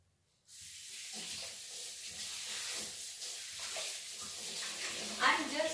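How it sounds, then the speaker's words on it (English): Prawns sizzle and crackle steadily in hot oil after a sudden start, a bright continuous hiss with a louder spatter near the end. "oil for frying"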